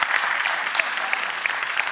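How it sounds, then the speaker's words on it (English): Brief applause from a church congregation at a livestreamed service, a short, even patter of clapping. "we can applaud Noel."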